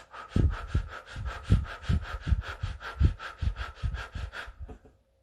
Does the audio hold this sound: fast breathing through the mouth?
yes